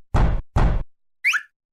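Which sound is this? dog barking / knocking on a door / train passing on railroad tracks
knocking on a door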